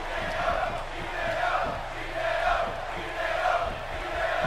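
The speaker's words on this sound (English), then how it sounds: "And you hear those Hideo chants?" WWE 2K16 video game arena crowd chanting in rhythmic, repeated waves for a wrestler during a fatal four-way match, a loud, sustained mass of voices swelling and falling with no commentary over it.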